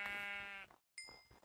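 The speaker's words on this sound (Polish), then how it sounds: "Rzucam cię, biorę tą owcę" Sheep in the Minecraft video game bleat twice, each a clear, nasal, wavering game-sound cry separated by a short silence, close and alone with no talk.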